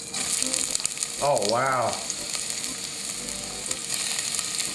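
Vegetables, onions among them, hit smoking-hot olive oil in a pan, and a steady loud sizzle and crackle runs throughout while a voice briefly exclaims over it.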